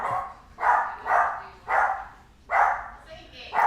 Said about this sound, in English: Can you hear all my dog barking?